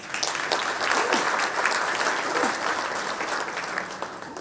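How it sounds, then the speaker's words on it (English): Steady applause from a large audience at a national management convention in a formal hall, dense continuous clapping sustained throughout with a faint voice briefly audible beneath it. "Please welcome them with a huge round of applause."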